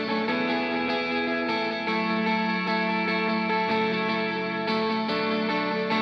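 Electric guitar in an indie rock mix run through a Universal Audio Galaxy Tape echo, sustained chords ringing with steady repeats and a wide modulated wash, loud and continuous without any voices.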